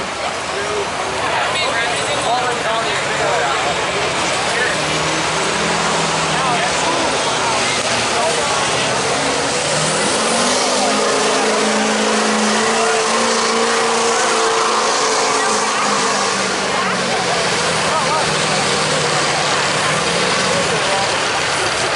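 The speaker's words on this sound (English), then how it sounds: "And the pickup, Jack Purcell out of Bloomington. GMC. Commercial grade" GMC commercial-grade diesel pickup truck in the 8200 lb class at an outdoor tractor pull, a loud continuous engine roar that swells and shifts in pitch for over twenty seconds, with crowd noise and an announcer's voice over it.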